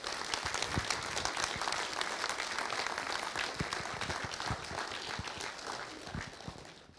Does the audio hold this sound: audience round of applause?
yes